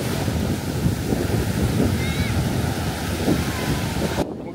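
Ocean waves wash steadily onto a beach on Koh Rong Island, Cambodia, a continuous, fairly loud roar mixed with heavy wind buffeting the microphone. The sound cuts off abruptly near the end, with no talking.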